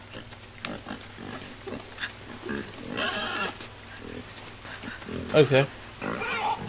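Pig grunting and oinking in the dark puzzle-platformer Inside, coming in short bursts over a low game drone while a person talks throughout.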